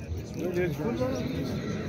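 A horse at a horse market whinnies once, a wavering neigh heard close by, with faint background noise.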